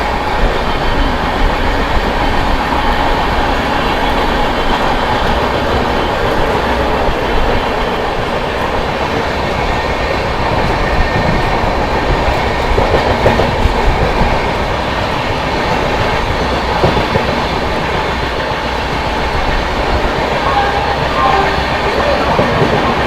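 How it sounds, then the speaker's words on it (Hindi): Indian Railways Barauni–New Delhi Clone Express running past and overtaking the Subedarganj–Shakur Basti Special at Aligarh Junction, a steady loud rolling roar with rail clatter throughout, close and continuous. "यहाँ पर अपनी बरौनी क्लोन ने एक और ओवरटेक किया है अलीगढ़ जंक्शन पे सूबेदारगंज शकूर बस्ती को"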